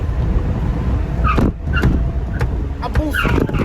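Car engine revving up outdoors on Mauritius, a steady broadband motor roar with brief rises, people talking faintly underneath.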